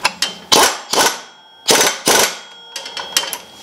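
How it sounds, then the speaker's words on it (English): Work on a go-kart CVT torque converter with a Predator 212 engine, as the 10 mm bolt on the pulley is tightened: several loud, sharp metallic clanks and taps come in bursts with short gaps, close up and with no talk. "And now we can tighten up the 10 millimeter."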